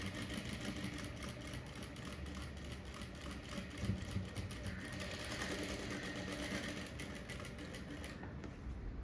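Sewing machine stitching the back neck of a blouse, a steady rapid mechanical whir running continuously at close range before stopping abruptly near the end.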